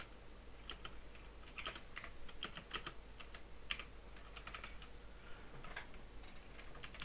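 Steady, quick clicking of keys on a computer keyboard while code is typed, close and fairly quiet over a low background hum, with brief pauses between bursts of keystrokes.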